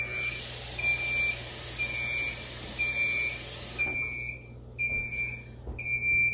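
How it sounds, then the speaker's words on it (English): Repeated high-pitched electronic beeps from an oven timer in steady pairs, loud and close, with a hissing background that cuts out partway through. "that timer that you hear is I've got bacon in the oven right now baking"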